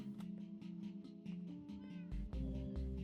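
Several cats in the video game Minecraft meow repeatedly in quick overlapping calls, set against a steady game soundscape with low thumping tones near the end, and no talk.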